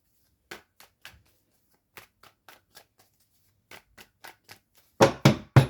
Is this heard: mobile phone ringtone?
no